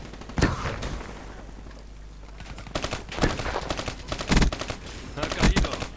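Rapid bursts of automatic gunfire in Black Ops 3 multiplayer, set among trees, with loud close volleys and scattered single shots through the whole stretch.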